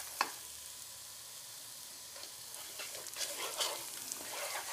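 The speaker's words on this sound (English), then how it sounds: "And you want to keep stirring because we don't want this to like burn to the bottom" A spoon stirs a thick broccoli cheddar soup paste in a pot, making a soft bubbling sizzle with irregular scraping strokes that grow busier toward the end. Nobody speaks.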